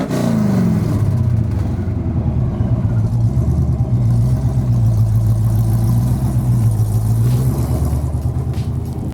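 C5 Corvette engine heard from inside the cabin while driving, a loud rumbling drone whose revs rise and fall steadily, with heavy road noise throughout.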